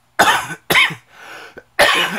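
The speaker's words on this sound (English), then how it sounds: "I really hate this cough, but it will not go away" Three harsh, loud coughs close by, spaced out over a couple of seconds, with a short quiet breathy gap between them.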